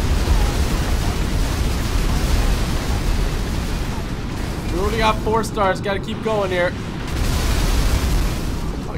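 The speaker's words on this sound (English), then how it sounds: "That was a lot of explosions." Continuous loud explosions and rumbling blasts fill a chaotic GTA 5 game session with a Spider-Man Green Goblin glider mod, dense noise throughout while someone talks briefly over it midway.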